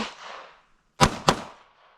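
Two sharp, loud gunshots about a quarter second apart at a shooting range during dynamic pistol shooting practice, each with a short echo, after a faint preceding noise.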